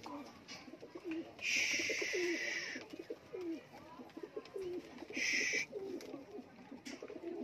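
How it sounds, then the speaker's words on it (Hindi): Salara and teddy pigeons with creamy eyes coo repeatedly in low rhythmic bursts, with two louder chirping calls over the steady cooing, close by and with no talk. "ये देखो ये सलारा कबूतर बिल्कुल क्रीमी अख दे विच"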